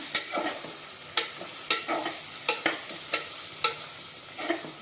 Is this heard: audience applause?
no